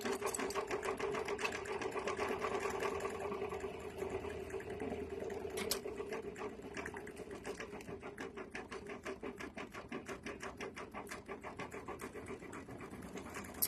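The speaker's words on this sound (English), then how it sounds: "we are on this flower and we are going to continue stitching here" An embroidery machine stitches a flower design with a rapid, steady mechanical chatter, clearly rhythmic and close, with a brief pause midway before the stitching continues.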